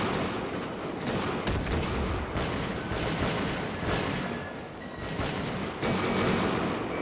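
Musket volleys in a Mount & Blade II: Bannerlord battle set in 1700s Europe, dense overlapping gunfire crackling and booming continuously with several louder bursts, a chaotic fusillade throughout.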